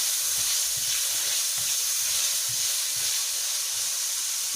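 Chayote sautéing in hot oil in a pan gives a steady, close sizzle and hiss that runs unbroken throughout, with faint low knocks of stirring underneath.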